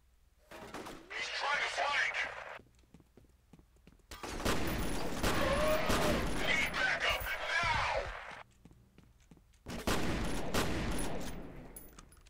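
Bursts of automatic gunfire from a firefight in the shooter game F.E.A.R., three loud volleys of rapid shots separated by short pauses, with a player's voice talking in between.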